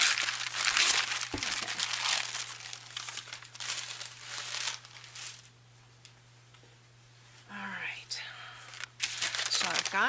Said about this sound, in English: Just tear a bunch of this off.